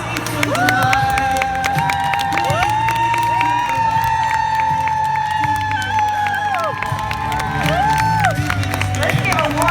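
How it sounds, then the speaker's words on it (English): A corporate awards audience breaks into loud, sustained applause and cheering, with whoops and shouts over dense clapping, while a voice and music carry on underneath. "please stand for a warm round of applause"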